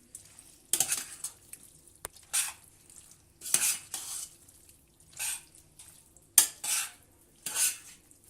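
A spoon stirs creamy mushroom chicken pasta around a pot in short scraping, clattering bursts, each a second or so long and separated by quiet pauses, close up with a faint sizzle underneath and no voices.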